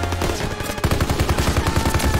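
Rapid machine gun fire in the Call of Duty WWII video game: a loud, steady stream of closely spaced shots rattling on for about two seconds after a brief lead-in, with no talk.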